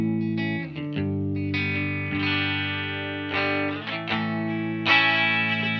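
Guitar runs through a SolidGold FX Aurras Optical Vibraphase pedal set to its slowest speed with the depth raised, giving sustained, distorted chords a slow, gentle swirl as several notes change.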